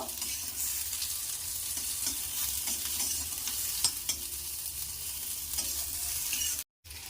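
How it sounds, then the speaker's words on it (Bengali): Shapune greens frying in a pan with onion, a soft continuous sizzle with faint stirring scrapes, fairly quiet and close, no talking, cut by a brief dropout near the end. "এগুলোকে একটু ভালোভাবে ভেজে নেব।"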